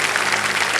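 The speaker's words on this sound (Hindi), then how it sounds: "जनता ने पहले ताली बजा दी।" A television quiz show studio audience applauds loudly, a dense, steady wash of clapping that fills the whole short moment.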